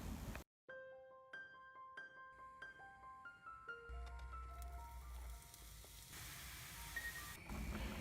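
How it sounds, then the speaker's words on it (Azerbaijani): Finely chopped onion stirred in hot vegetable oil, a steady sizzle and hiss running throughout with bright clinks and scrapes of a utensil against the pan, no voices. "Bir baş soğanı narın doğrayıb bitki yağında biraz çeviririk."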